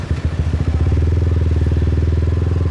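Motorbike riding through Saigon streets, a loud close engine putter with rapid regular pulses, steady throughout the short stretch.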